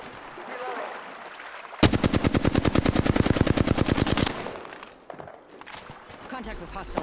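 Automatic weapon fire in the Apex Legends video game, a loud rapid burst of evenly spaced shots lasting over two seconds, with game voices and effects before and after.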